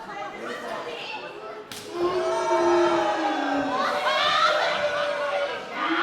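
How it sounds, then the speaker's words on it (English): Wrestling crowd at a live pro wrestling event in Cedar, BC, booing a wrestler's chops, a swelling mass of voices that grows louder midway and carries on under a commentator's voice. "The crowd here in Cedar seem to enjoy those chops a lot more when they're coming from Malik. Hearing boos now for Rex Rothschild."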